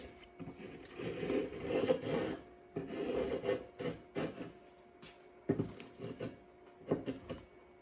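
An end shave rasps shavings off a wooden seat in repeated strokes, each a scraping, rubbing stroke lasting about a second with short pauses between them, close and clear with no talking.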